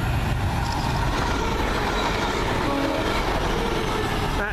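A TransPennine Express train passes through a station at Kearsley, a loud, steady rumble of wheels and carriages that fills the whole clip with no voices.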